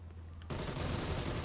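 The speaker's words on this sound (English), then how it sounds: "You might have been hearing these gunshots." Gunfire in the video game Gotham Knights from enemy regulator shooters, a sudden burst of rapid shots that snaps in after a quiet moment and keeps rattling steadily at moderate volume.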